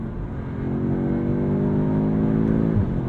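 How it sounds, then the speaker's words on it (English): Turbocharged four-cylinder engine of a 2022 Audi S3 snarling as revs rise and fall through quick downshifts, a loud steady engine drone heard from inside the car, with no talking. "Those are quick downshifts. And I like the snarl that you get from that 4-cylinder when you do so."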